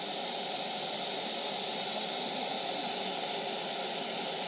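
Spindle of a woodworking machine running at the Eurobois 2024 woodworking trade fair, giving off a steady, loud, hissing whir that holds constant throughout without pauses.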